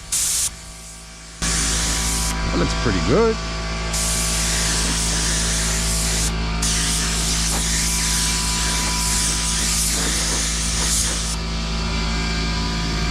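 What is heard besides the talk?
paint spray gun spraying a fender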